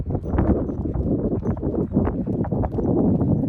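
A large, strong horse's hooves clip-clop steadily under a rider, a close, even rhythm of firm thuds on ground that keeps going without a break.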